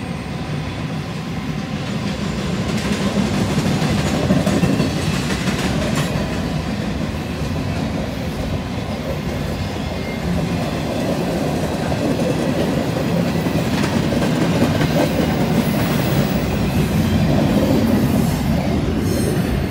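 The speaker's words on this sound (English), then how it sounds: "Train's fun." A train rumbles steadily past at close range in Mount Robson Provincial Park in the Rockies, its wheels clattering and squealing in a continuous loud roar, with no voices.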